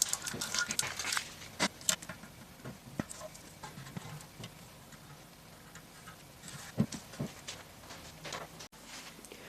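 Masking tape is peeled off a freshly painted minibike fuel tank in short close bursts of tearing and crinkling, separated by quiet pauses and faint handling taps, with no speech.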